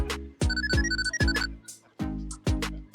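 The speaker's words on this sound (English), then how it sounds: "This phone, when I get a call, I know it's you because it's got a special Joan tone" A cell phone plays a custom melodic ringtone, a bright repeating synth tune in short bursts with brief gaps, loud and close with no talk over it.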